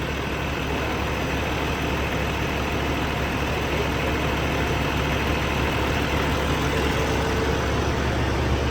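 A steady, continuous rumble of a Freightliner cabover truck engine idling nearby, unchanging and loud, with no voices over it.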